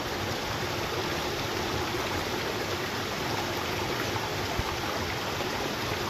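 Continuous rushing flow of water running through a pipe into water, steady and fairly even throughout, with no voices.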